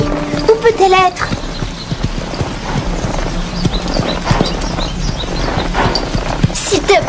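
A horse's hooves clip-clop steadily at close range, with a quick whinny near the start, while people talk in French over the hoofbeats.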